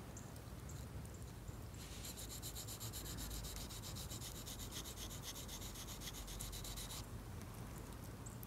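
Steady rhythmic rubbing strokes of a Gerber Principle knife's Scandi grind bevel on a sharpening stone, close and fairly quiet, with brighter rasping strokes in the middle stretch and no talk.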